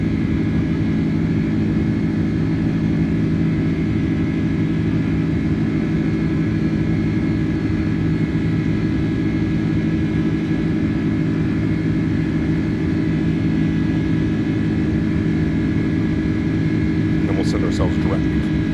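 The iniBuilds A310 airliner climbs at climb power in Microsoft Flight Simulator, a continuous loud engine drone with a steady tone, and faint clicks near the end.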